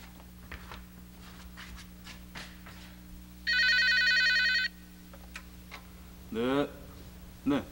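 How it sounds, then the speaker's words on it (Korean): An old telephone rings indoors in a 1980s Korean TV drama, one sustained electric bell burst followed by a shorter second ring, with quiet room noise and brief voices around it. "권대리, 신부님께서 전화."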